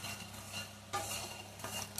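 Dry fruits roasting over a slow flame in a pan are stirred with a utensil, giving a close scraping and stirring rustle with a light sizzle and occasional sharper clinks against the pan.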